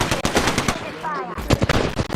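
Apex Legends automatic gunfire rattles almost continuously at close range, dense and loud, with only a brief lull partway through.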